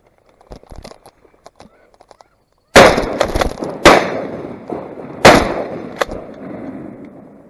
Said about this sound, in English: I didn't even get to fucking reload my gun. I put one shot in.